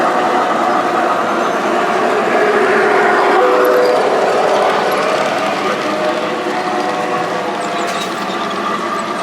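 Steady, loud mechanical clatter and rumble from a model K4 steam locomotive running close by on a Christmas train layout, with a rhythmic ratcheting chatter throughout.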